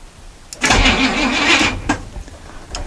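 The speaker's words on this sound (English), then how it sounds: "So in theory, if I touch this to this, it should crank." A 1962 Chevy C-10 engine cranks for about a second and a half after its ignition is hot-wired, making a loud, steady starter whir. Faint clicks come before and after it, and there is no talk.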